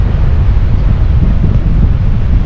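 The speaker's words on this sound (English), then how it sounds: "Oh, I mean that wind's picked up." Strong, steady wind roars across the microphone on a coastal hiking trail between Minehead and Porlock Weir on the South West Coast Path, constant and loud with no pauses.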